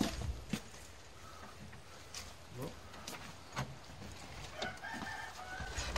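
Chickens and a rooster on a small backyard property, with intermittent clucking and crowing calls of moderate distance over a quiet outdoor background and no speech.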